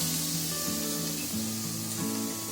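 Minced garlic frying in a pan over a medium gas flame, a steady broadband sizzle and hiss with a faint tonal hum running beneath it throughout.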